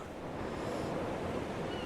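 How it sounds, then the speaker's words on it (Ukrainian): Howling wind in the video game Dear Esther, a brief, steady rush of broad, airy noise like gusts over surf, with no voices. "Ух, як завіває вітер."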